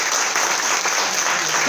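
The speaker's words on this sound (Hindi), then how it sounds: "ताली बजाओ।" Steady, fairly loud applause from an audience at a business sales seminar in India, continuous clapping throughout with no talk.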